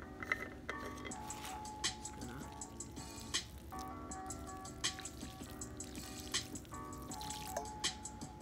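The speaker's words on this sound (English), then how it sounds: "Just gonna put water on it to try to make mud." Water poured from a thermos onto outdoor dirt to make mud, heard as close trickling and dripping with scattered splashes over steady background noise.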